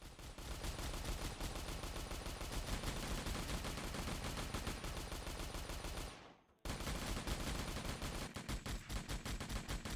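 Rapid, continuous automatic gunfire from the top-down twin-stick shooter game Mad Devils, loud and dense, breaking off for a brief silence before the rattling bursts resume.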